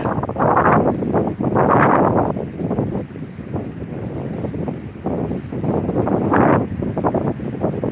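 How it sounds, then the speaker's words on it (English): Strong wind buffets a boat out on open water, a loud continuous roar with surging gusts and rushing noise across the whole clip. "Yeah, it's super windy out."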